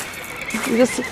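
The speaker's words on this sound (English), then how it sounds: "We hear a few horses in the stable area, in the stables" A horse gives a short, nasal whinny at moderate distance in a stable area at a horse sale, rising and falling briefly over quiet background.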